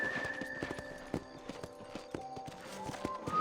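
Horse hooves clip-clop at a steady trotting rhythm in the video game Red Dead Redemption, crisp and fairly quiet over a faint background tone.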